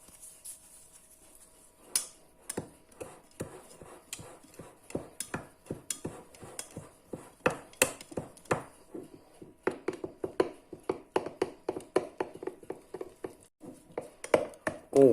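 Bread dough of corn flour and T45 flour being stirred in a bowl, heard as a steady run of short scraping and tapping strokes that grows denser and louder toward the end.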